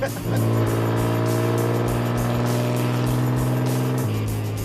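A Ford Galaxie rally car's engine holds a loud, sustained high rev close by, with a steady droning roar that dips slightly in pitch near the end as the throttle eases.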